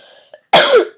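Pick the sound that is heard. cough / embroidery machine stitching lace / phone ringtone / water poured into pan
cough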